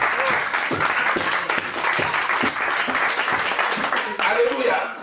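A church congregation at a pastor's baptism service applauds loudly and steadily throughout, a dense, continuous wash of clapping with voices mixed in.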